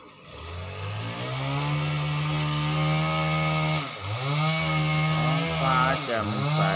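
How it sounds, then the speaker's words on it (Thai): A chainsaw cuts firewood outdoors on a clear morning, its engine droning loud and close with two short dips in pitch as it bites into the wood and revs again. "เสียงเขาตัดฟืน"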